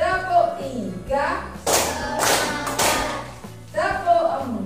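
A group claps in unison during a classroom clapping game, a few sharp loud clap bursts between stretches of a leader's chanting voice.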